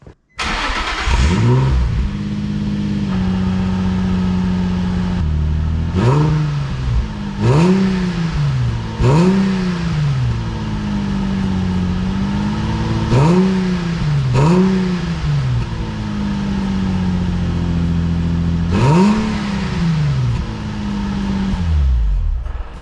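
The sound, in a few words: Nissan 350Z cold start with Circuit Werks cat-back exhaust and silencer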